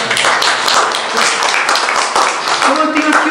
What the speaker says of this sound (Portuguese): Merece uma salva de palmas